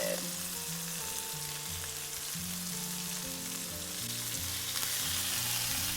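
Bacon and a burger patty fry on a Steelmade USA flat top griddle, giving a loud, steady sizzle that runs unbroken for several seconds with no talking.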